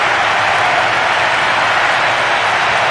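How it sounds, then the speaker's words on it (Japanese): A stadium crowd roars in the football video game Winning Eleven 2008 after Brazil's late goal, a dense, loud, unbroken wash of cheering and applause with no voices standing out. "大歓声が響き渡ります"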